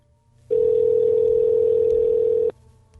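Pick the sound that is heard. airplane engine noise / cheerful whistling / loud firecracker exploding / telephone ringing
telephone ringing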